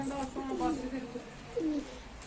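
Pigeons coo softly inside a coop, giving a few low, rolling calls at a quiet level.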